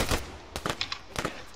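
Gunfire in the military shooter game Arma 3, with several sharp shots spaced across a brief moment, fairly close and fairly loud, with no talk.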